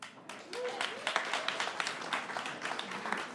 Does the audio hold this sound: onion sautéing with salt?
no